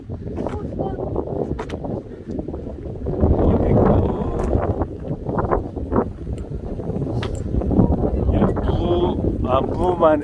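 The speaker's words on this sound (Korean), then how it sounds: "바람이 상당히 많이 불고 있네요" Strong wind buffets the microphone on a coastal walking trail in Jeju, a steady loud roar with gusts throughout, while people talk over it.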